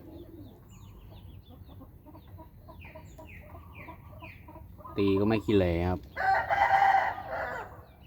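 A rooster clucks softly, then lets out a loud, close crow followed by more calls, with someone speaking in Thai over the first half.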